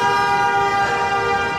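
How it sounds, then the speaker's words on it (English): A car horn blares in a steady, loud, unbroken tone in Manhattan street traffic, with the hum of traffic underneath. "yes, more honking."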